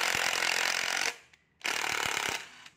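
Cordless battery impact wrench driving bolts, two loud sustained rattling hammering bursts separated by a short pause, close and with no talk.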